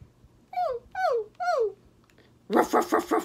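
A voice imitates dogs barking together: three drawn-out, howling barks in slow succession, then a quick burst of rough, rapid barks, all close and clear.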